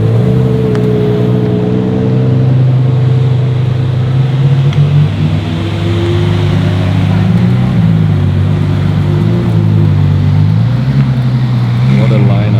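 Ferrari sports cars, including a Monza SP Aperta and a LaFerrari, rumble past in a loud continuous engine drone with rising and falling revs, heard up close at a large Ferrari gathering in Aarberg alongside talk from onlookers.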